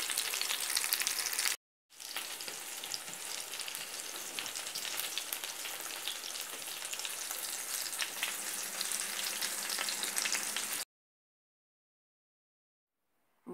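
Chicken meatballs sizzle and crackle as they fry in hot oil, a loud, dense, steady frying sound that breaks off briefly near the start and stops near the end.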